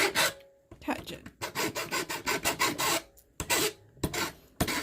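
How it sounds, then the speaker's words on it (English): Coarse metal file rasping back and forth across a burnt Weller 100 soldering iron tip, loud close strokes in a steady repeated rhythm with brief pauses between passes. "And I'm using a pretty coarse file right now."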